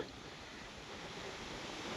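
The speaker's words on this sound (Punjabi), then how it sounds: "ਦੇਖ ਲਓ ਜੀ ਹਵਾ ਕਿਵੇਂ ਚੱਲਦੀ ਆ" Wind blows through trees beside a canal in farm fields, a faint, steady rushing hiss with no voices.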